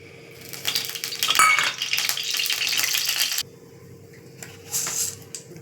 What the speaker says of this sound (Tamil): எண்ணெய் ஊற்றிக்கலாம்.